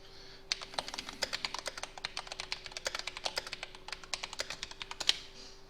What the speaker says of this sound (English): me and my mechanical keyboard just typing away